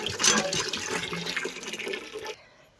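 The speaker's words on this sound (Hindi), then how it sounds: "तो जी पानी मैंने भर लिया है" Water pours into a container indoors, a steady splashing fill that runs for a couple of seconds and then cuts off, leaving near silence.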